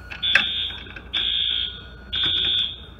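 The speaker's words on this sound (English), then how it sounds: "Pulling the first alarm." An industrial fire alarm sounds during a system test, blaring in three loud, evenly spaced tones of about a second each, with short gaps and a few clicks between them.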